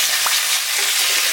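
Squid pieces dropped into a hot pan with sake, water and tomatoes, giving a brief, loud, dense hiss of frying from start to finish.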